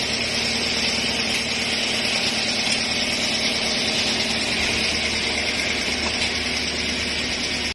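A 2006 Toyota Corolla engine idling steadily, with a car that has jerky gear shifts and high shift revs, a constant close hum with even vibration and no change in pitch throughout.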